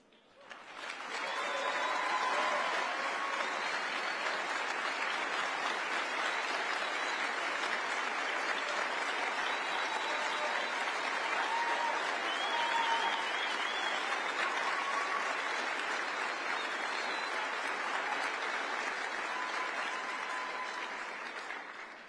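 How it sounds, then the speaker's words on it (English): A large audience at a political conference event applauds and cheers for over twenty seconds, a dense, steady wash of clapping with scattered shouts that swells at the start and fades slightly at the end. "seeing you all stand up and cheer for these detransitioners"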